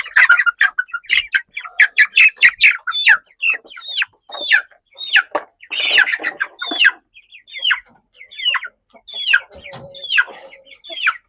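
Chickens of the Ankada native breed in a coop, stirred up by a rooster that got inside, clucking, squawking and crowing in a loud, dense, continuous clamor close by with no talking.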